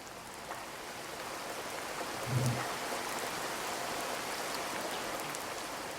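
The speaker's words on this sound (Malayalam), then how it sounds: "ഇതാണ് മക്കളെ മഴ എന്ന് പറഞ്ഞാൽ." Heavy monsoon rain falls steadily in Munnar, producing a dense, continuous hiss of drops on surfaces that stays even throughout, with one brief low thump partway through.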